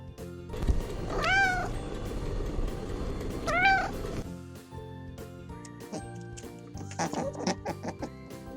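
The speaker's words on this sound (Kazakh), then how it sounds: "Мысық." Two drawn-out meows from a cat ring out clearly, one near the start and another about two seconds later, followed by softer animal-like calls with background music.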